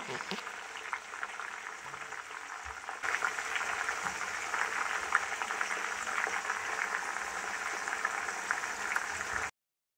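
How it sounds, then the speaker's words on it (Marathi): Hibiscus flowers, hibiscus leaves and curry leaves fry in hot oil as homemade hair oil is made, giving a steady, dense crackling sizzle that grows louder partway through and then cuts off abruptly. "पानं तेलामध्ये छान अशी तळली जात आहेत।"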